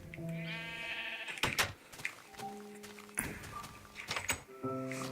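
Sheep bleat loudly and close by in a farm pen, several long wavering calls broken up by knocks and thuds from gates or hooves, with no talk over them.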